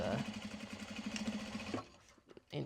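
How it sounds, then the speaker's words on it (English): Sewing machine top stitching a tote bag, a close, steady rapid stitching hum that runs for almost two seconds, then stops, followed by brief quieter handling noises. "All right, so these are just getting top stitched right now."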